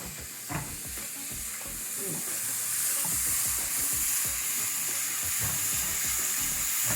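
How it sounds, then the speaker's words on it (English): Zucchini noodles, seasoned with salt and pepper, sizzle steadily in a hot pan while a utensil stirs and scrapes through them in close, repeated strokes under a constant frying hiss. "Then add your zucchini noodles and"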